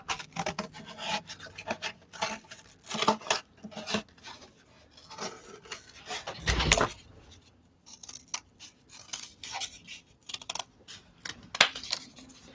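Scissors cutting a face shape out of cardboard, a quiet, close series of irregular snips and rasping scrapes with brief pauses and one heavier rustle midway.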